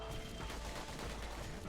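Pistols firing in the video game Bastion make a rapid series of quiet, crackling shots layered over a steady hum, with no talking.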